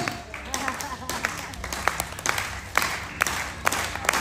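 An audience claps slowly and steadily in time to help a performer named Flynn, sharp separate claps rising over a murmuring crowd with voices talking.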